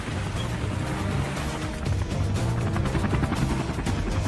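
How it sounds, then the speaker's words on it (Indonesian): A police Sea Rider boat speeds through ocean waves during a demonstration, its engine a loud continuous drone mixed with rushing water and hull slap, steady and close throughout. "Tim penindak Polri menggunakan Sea Rider melesat membelah ombak sebagai tim perimeter dan mobilitas tim penindak"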